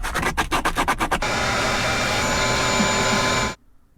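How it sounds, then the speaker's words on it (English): A Dremel rotary tool fitted with a sanding disc grinds into plastic at close range, starting with a series of quick, stuttering bursts before settling into a steady, harsh whine that cuts off abruptly near the end. "I was using a sanding disc on my Dremel tool"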